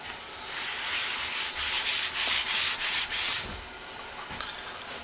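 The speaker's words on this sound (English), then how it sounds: "let's give it a little rub down with some 4/0 steel wool" Fine 4/0 steel wool scrubs a rusty hand tool during an Evaporust clean-up, giving a close, steady scratchy rubbing with a few quick rhythmic strokes and no talk.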